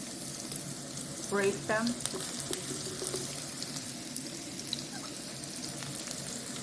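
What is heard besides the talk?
onion frying in a pan for mushroom potato stir fry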